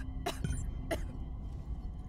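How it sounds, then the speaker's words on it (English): A character in the video game Alien: Isolation lets out two short, sharp coughs, about half a second apart, close and fairly loud over a low background hum. "And just because I'm vaping doesn't mean you need to cough there, Ripley"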